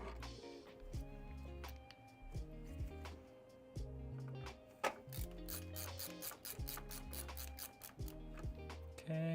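Bolts being tightened by hand inside a PC case during a build, with repeated rapid ratcheting clicks and metallic scraping in short bursts, close and moderately quiet, with no talking.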